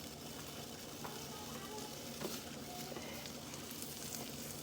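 Garlic pieces fry in a pan beside salmon, giving a quiet, steady sizzle with faint crackles and pops throughout.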